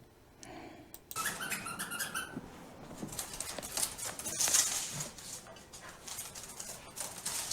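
A dog's paws patter and skitter across an indoor floor in quick, irregular steps, faint and close, with no one talking.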